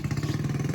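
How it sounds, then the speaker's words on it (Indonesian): A motorcycle engine runs steadily on a trip toward Gunung Prau near Dieng, Wonosobo, a close, continuous low throbbing hum with a regular pulsing rhythm and no talking. "suara motor"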